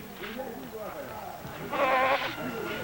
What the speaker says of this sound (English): a young goat is brought in.